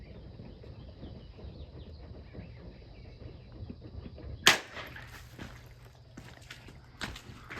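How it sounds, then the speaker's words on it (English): Single sharp gunshot fired close up at a raccoon caught in a trap outdoors, one loud crack midway through a quiet stretch of faint background noise, followed by a few small clicks and rustles. "Gotta get pretty close, or otherwise you're gonna be shooting your trap."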